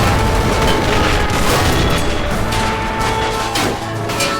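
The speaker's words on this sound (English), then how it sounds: "is it the artillery support are firing?" Artillery support fires in a toy war strategy game battle in Khanh Hoa: continuous heavy booming and layered blasts roll on at a loud, dense level, shots overlapping without pause.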